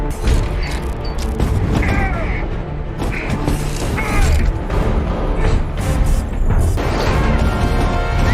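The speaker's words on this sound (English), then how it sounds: "She's gonna rip the bay door open?" A spaceship bay door is forced open in The Expanse TV series: loud, sustained grinding and creaking metal with heavy booms and crashing impacts running throughout, close and dense.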